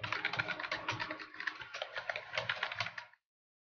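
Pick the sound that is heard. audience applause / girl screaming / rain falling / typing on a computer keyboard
typing on a computer keyboard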